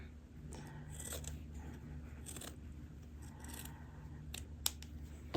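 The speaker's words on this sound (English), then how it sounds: "So now I can cut this excess triangle off, and I can just cut 1/4 of an inch away from that seam right there." Scissors snip away excess fabric a quarter inch from a sewn seam on a Christmas stocking, giving quiet, faint scraping cuts in a few short strokes over a low steady background hum.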